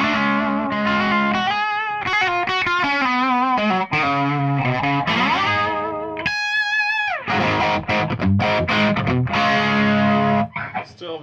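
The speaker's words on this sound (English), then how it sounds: "still very much all those overdriven tones are there, but just not as aggressive" An electric guitar plays loud, overdriven chords and single-note runs through a Metropoulos 12,000 Series Marshall-style amplifier, with a thick crunchy distortion, a brief sustained bend midway, and busy strummed passages throughout.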